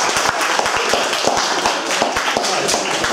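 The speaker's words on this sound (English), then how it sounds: "Round of applause," A small audience at student society hustings claps for a candidate, with individual hand claps standing out distinctly over a lively, close-sounding patter.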